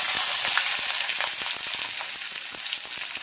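Cinnamon, cloves, green and black cardamom and chopped onion frying in hot oil in a home kitchen, giving a steady, close, dense sizzle with frequent sharp crackles and pops throughout, no voices.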